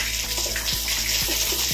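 Water is sprayed forcefully onto a brick wall, a loud continuous gushing hiss with splashing and faint knocks throughout.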